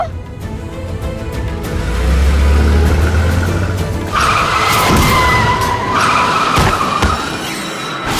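A car skids hard on the road just before striking a girl, tyres squealing loudly and close for several seconds over a low engine rumble, ending with a sharp impact-like burst.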